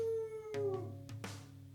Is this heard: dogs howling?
yes